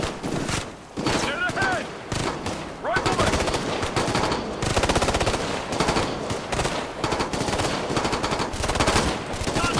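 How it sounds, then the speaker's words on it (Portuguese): Sustained automatic gunfire in the Ghost Recon video game, a dense stream of rapid bursts and shots filling the whole stretch with no letup, loud and close, with occasional impacts mixed in. "E todo mundo atirando em mim."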